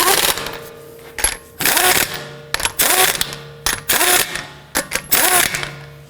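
A power tool snugs down the lug nuts on a 2018-2024 Toyota Camry front wheel during strut replacement, giving loud, rattling impact bursts in several repeated spurts separated by short pauses.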